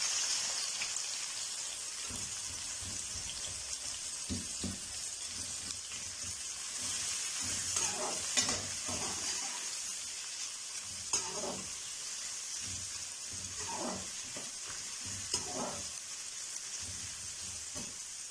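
Two large sliced onions sautéing in oil over fried spices for Delhi-style butter chicken, a continuous soft hiss and sizzle with occasional stirring scrapes and crackles, no voices.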